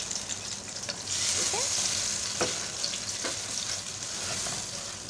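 Garlic and ginger paste frying over medium heat for a mutton leg karahi, a steady moderate sizzle with a few sharp utensil clicks and scrapes, close and fairly even.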